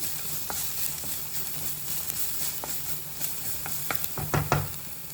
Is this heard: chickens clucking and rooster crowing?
no